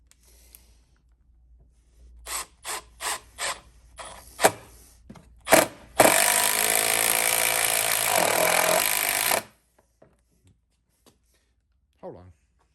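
A Milwaukee M12 drill set on clutch setting 3 drives into hardwood: a few short sharp taps and clicks, then a loud, steady whirring run of about three seconds that stops abruptly, followed by quiet.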